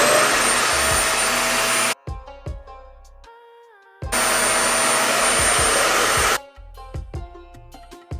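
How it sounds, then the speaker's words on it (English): A Revair suction hair dryer runs on heat at suction setting 7 with a loud, steady whooshing roar. It cuts out twice for short gaps of fainter tones and knocks before starting again, with no voices. "Turn on my Rev Air. It's at the number 7 suction and it's on heat."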